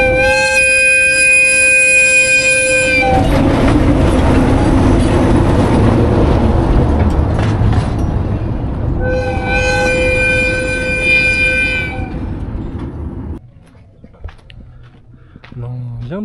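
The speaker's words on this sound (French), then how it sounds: "En plus, il y a un train qui arrive là." A steam train arriving among mountains, its loud steady whistle sounding twice in long sustained blasts over a heavy rumbling roll of the train, fading near the end while a person talks.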